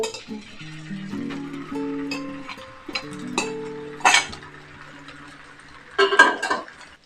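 Pieces of amla are tipped into a pan and stirred while making pickle. A utensil clinks and scrapes against the pan in a few bright bursts over a soft, steady tonal background.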